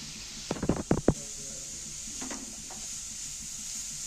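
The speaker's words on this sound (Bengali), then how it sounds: "তেলটা কিন্তু গরম হয়ে গেছে আমি গাজরের কুচিগুলো দিয়ে দিচ্ছি" Chopped carrot going into hot mustard oil in a pan, a quick cluster of close clacks and bumps followed by a faint, even sizzle.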